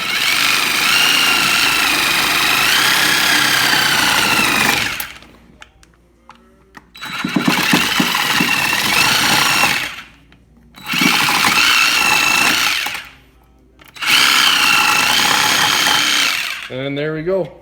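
A Sawzall reciprocating saw cuts a car battery terminal clamp in three loud, harsh bursts, each lasting a few seconds and separated by short pauses with faint handling noises.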